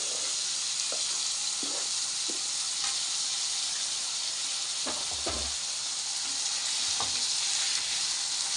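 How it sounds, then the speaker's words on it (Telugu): Capsicum and tomatoes frying in a pan for pav bhaji, a loud steady sizzle throughout, broken by occasional scraping stir strokes. "వేగనివ్వండి ఇలా టమాటాలు మగ్గుతున్నప్పుడు"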